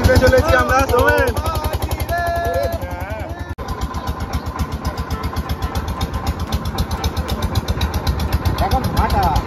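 A motor boat engine putts steadily on a river in the Dabu mangrove area, a loud, rhythmic, close thudding that runs the whole time, with voices over it during the first few seconds.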